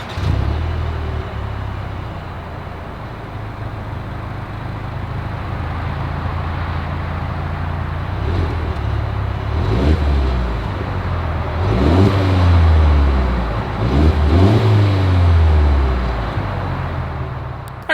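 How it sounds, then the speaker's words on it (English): A 2022 Mercedes-Benz GLE 350 with dual exhaust idles close by with a low, steady drone, then gets revved several times in rising and falling sweeps before settling back to idle. "As always, here is that exhaust clip"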